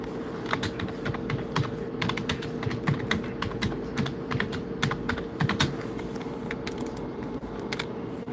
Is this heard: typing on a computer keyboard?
yes